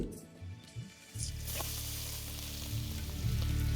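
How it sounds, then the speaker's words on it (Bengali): Chopped garlic dropped into hot oil for vegetable fried rice sets off a sudden, steady sizzle, close and fairly loud, over a low stove hum, with a few quiet clinks before it starts. "এবার তেলটা একটু গরম হয়ে গেলে আমি এখানে সবার প্রথম দিয়ে দেবো 2 চা চামচ রসুন কুচি"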